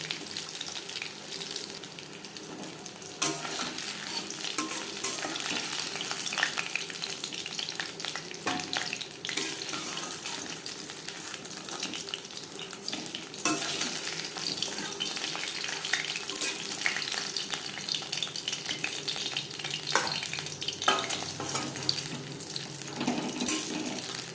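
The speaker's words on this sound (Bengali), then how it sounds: "উল্টে পাল্টে দুটো সাই লালচে করে ভাজা হয়ে গেছে" Steady hissing sizzle of fish frying in hot oil until crisp, continuous crackling with occasional louder pops and stirring sounds, no talking.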